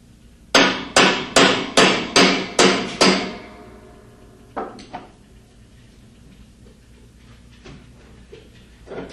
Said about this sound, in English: Remove the large hex nut using part number 306P4 hex wrench and a hammer.